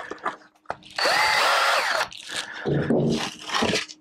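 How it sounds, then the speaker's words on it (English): A power drill whirs for about a second as it bores into a wooden bowl blank, followed by short bursts of drilling and brief pauses. "drill a hole"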